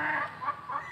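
Chickens cluck in a short burst of repeated calls from molting breeding fowl recovering condition, with two or three close, fairly loud clucks across one second and no speech.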